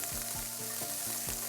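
A stir fry sizzles steadily in a pan over a medium flame, a dense continuous crackle with rhythmic scraping strokes of stirring every few tenths of a second, close and alone.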